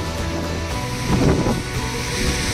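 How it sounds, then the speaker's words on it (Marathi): Rough sea waves break at Mirya Beach in Ratnagiri, a continuous surf wash with one louder surge midway, mixed with wind buffeting the microphone and no voices. "खवळलेला समुद्र परत एकदा बघू शकता"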